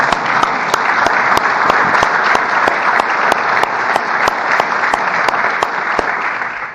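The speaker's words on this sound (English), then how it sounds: "That applause was prompted by our Deputy National Security Advisor" An audience claps steadily throughout, dense and even, with a few sharp individual claps standing out and no voices over it.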